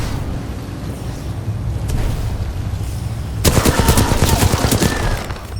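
Turret gunfire in the video game Titanfall 2, opening after a stretch of rumbling ambience into a loud, rapid string of automatic shots that keeps hammering to the end.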